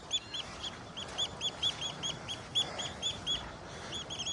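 A close oystercatcher near its nest sounds a loud, rapid series of shrill piping calls in a steady repeated rhythm that keeps going throughout, set against a soft background wash.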